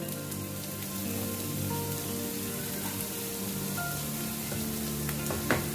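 Onions sautéing in a pan for a soya momo filling give a steady, close sizzle that crackles evenly throughout, with a faint clink near the end.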